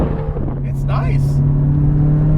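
Modified 1987 Porsche 944 Turbo engine pulls hard under acceleration as a steady in-cabin drone, with the driver talking over it.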